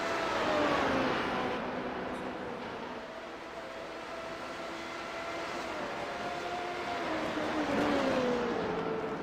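A Formula Renault 3.5 race car circles the Nurburgring track, its engine a continuous high whine that rises and falls steadily as it approaches and passes at a distance.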